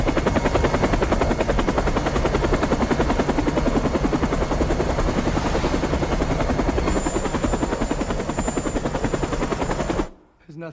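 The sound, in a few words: helicopter flying, from an action movie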